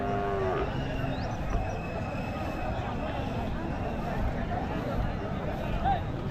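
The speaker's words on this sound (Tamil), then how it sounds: "இதெல்லாம் நாட்டு மாடுங்க, நல்லா அருமையான மாடு." Native cattle and calves at a Tuesday livestock market, several moos rising over a busy crowd murmur, with people talking nearby throughout.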